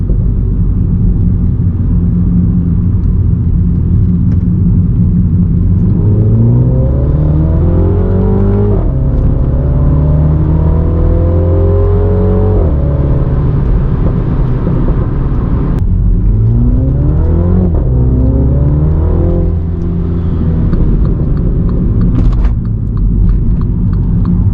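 A MINI John Cooper Works F56 on its stock exhaust pulls through the gears, loud and close, engine note rising in repeated sweeps with brief dips at each shift and a deep rumble underneath.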